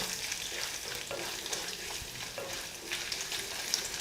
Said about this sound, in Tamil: முதல்ல வத்தலை போட்டு நல்லா ஃப்ரை பண்ணுங்கள்.